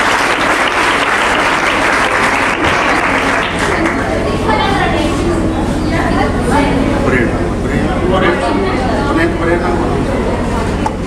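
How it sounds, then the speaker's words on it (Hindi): Loud, sustained audience applause fills a talent honors ceremony in Rohtak district, Haryana, a dense, steady clatter of many hands clapping throughout with voices mixed in. "एक बार हमारी बहन के लिए जोरदार तालियां।"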